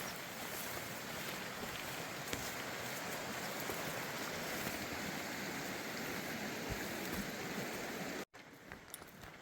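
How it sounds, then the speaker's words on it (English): A river flows in a steady, dense rush of broadband water noise heard outdoors along the Continental Divide Trail, constant and moderately close before cutting off abruptly near the end. "This side of the river is a little more mellow."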